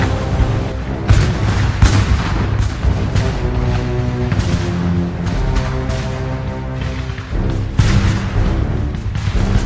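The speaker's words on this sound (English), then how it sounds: "As his troops charged, they faced a barrage of artillery fire." Heavy booming artillery fire in a war scene, with repeated blasts over a continuous rumbling barrage and droning tones, loud and dense throughout.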